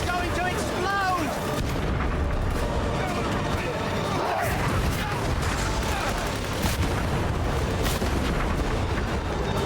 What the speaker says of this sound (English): It's going to explode!